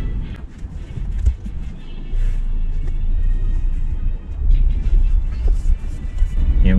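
A car pulls away and starts driving through a residential development, with a low engine rumble and some wind buffeting rising and falling throughout, fairly close, and a voice faintly present in the background.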